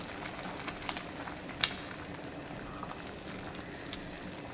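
Celery and potato soup simmering in a pot on the stove, giving a quiet, steady bubbling and faint sizzle with one brief louder tap partway through.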